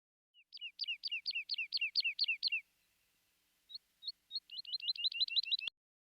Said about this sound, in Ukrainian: Жайворонок дзвінкотить.